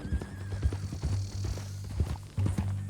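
Horse hooves clip-clopping at a walking pace in the Red Dead Redemption 2 ranch epilogue, a quiet, uneven run of soft thuds with a short whinny near the start.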